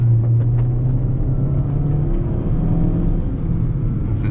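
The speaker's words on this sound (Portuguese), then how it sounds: "Vou fazer uma frenagem e dar uma aceleradinha." A Chery Tiggo 7 SUV brakes and then accelerates, heard from inside the cabin as a loud, steady engine and road drone whose low hum shifts in pitch, with no voices.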